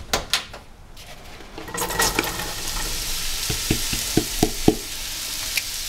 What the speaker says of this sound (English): the skillet is already heated, so 2 teaspoons of oil. And I'm gonna put my mushrooms in there.